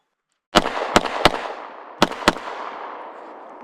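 Five loud, close gunshots from a Ruger RXM pistol, fired in two quick groups of three and two, each crack followed by a long echoing decay across an open range.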